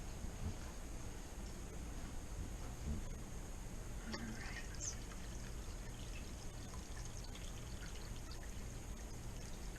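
Water is poured over jars sitting in a home canner. A faint, steady pouring wash runs throughout, with a soft splashy rush and a few small clinks.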